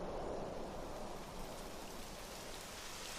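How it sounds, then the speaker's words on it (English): Steady rainfall in the video game Dragon Quest XI, a dense, even hiss of falling rain that holds constant throughout with no voices over it. "It would have to go and start raining, wouldn't it?"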